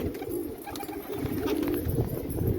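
Pigeons coo close by in repeated low, soft throaty phrases over steady background noise, with no talking.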